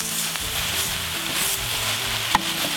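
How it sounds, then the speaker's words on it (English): Green beans with cinnamon and allspice in olive oil being stirred in a pot, a dense continuous sizzle with soft scraping of a spoon and one brief clink, close and steady. "And just give it a good stir."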